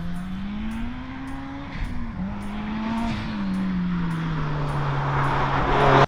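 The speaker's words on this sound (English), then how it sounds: "These cars are notoriously pretty loud with a straight-through system" A loud turbocharged Subaru BRZ engine, about 400 hp, drones steadily through a straight-through exhaust, pitch rising and falling slightly as it revs, growing louder toward the end.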